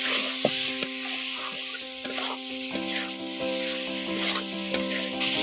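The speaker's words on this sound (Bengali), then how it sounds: "এই উপকরণগুলো দিয়ে আবার আমি পটল আলুগুলোকে কষে নিচ্ছি।" Pointed gourd and potato pieces being sautéed with chili powder, salt and spices in a pan, a soft continuous sizzle under repeated scraping and clinking of a spoon stirring, with a faint tonal hum in the background.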